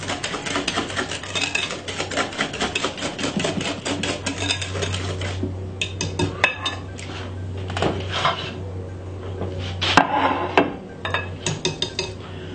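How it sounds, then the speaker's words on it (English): A whisk beating Jamaican fruit cake batter in a bowl, dense rapid metallic clatter and scraping that runs on for several seconds and then turns patchier toward the end, with a low steady hum behind it and no talking. "Give it a lovely whisk."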